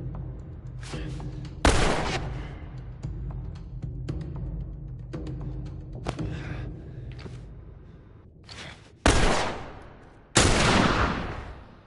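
Gunfire from The Last of Us on PS4, with several loud, sharp gunshot bursts spread over a bed of game ambience, including two heavy blasts near the end.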